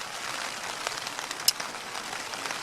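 Heavy rain pattering on a camping tent during wild camping in Scotland, a dense, steady hiss of drops with occasional sharper taps, heard from inside.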